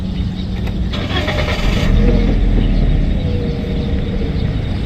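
A car drives along a road past rice fields at a rice research centre, its engine a steady close rumble with a slight swell near the two-second mark and no talk over it.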